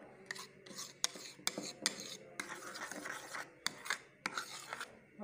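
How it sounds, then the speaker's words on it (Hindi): A spoon stirs and scrapes through thick spicy sauce for zinger shawarma in a bowl, giving a continuous run of close scraping and clinking strokes at a quiet level with no voices. "माशाल्लाह अल्हम्दुलिल्लाह देखिए हमारी सॉस तैयार है, अच्छी तरह मिक्स कर लेंगे।"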